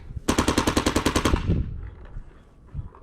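A foam dart blaster with a hopper fires a rapid burst of about a dozen evenly spaced shots over roughly a second and a half. The whirring mechanism winds down afterward, close and loud.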